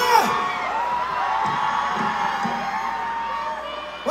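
A concert crowd in Guadalajara cheers and whoops, a loud, sustained roar of shouting voices and applause that fills the whole stretch and rises again at the very end.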